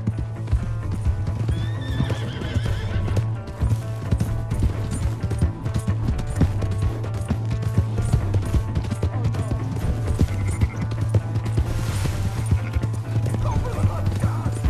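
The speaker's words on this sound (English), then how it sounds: "That's my horse." Galloping horse hooves clatter in the Red Dead Redemption 2 video game, with repeated whinnies and snorts over a low steady hum and game sounds, while voices shout briefly in the background.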